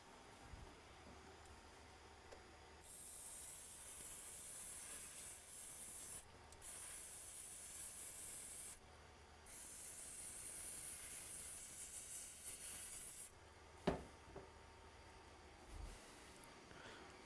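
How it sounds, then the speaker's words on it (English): Flux remover aerosol sprayed onto a MacBook A1502 logic board in several long hissing bursts with short pauses between them, close and steady, no talking. "I'll spray this with a little bit of flux remover and go from there"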